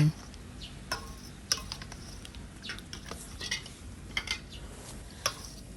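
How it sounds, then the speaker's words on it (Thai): Light clinks and taps of a utensil against a bowl as larb mha noi is mixed with chili powder and toasted rice, scattered irregular strikes, close and fairly quiet over a soft background hiss. "เสร็จแล้วก็ค้นส่วนผสมให้เข้ากัน"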